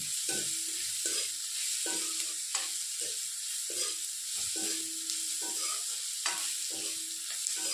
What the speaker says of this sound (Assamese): আৰু অলপ সময় মই ভাজিব লাগিব, এইখিনি ৰঙচুৱা হ'ব লাগিব।